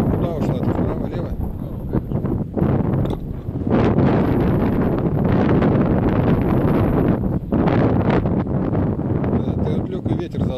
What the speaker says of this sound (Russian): ты отвлек, и ветер задул сильно.